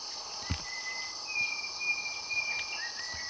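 Insects in a Malaysian jungle keep up a continuous high, shrill chirping drone, with a few faint thin whistling calls drifting over it.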